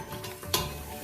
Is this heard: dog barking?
no